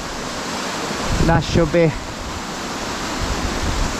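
Inside a Mid Wales lead and zinc mine, water falls in a steady, broadband rush that runs throughout, and someone speaks briefly over it.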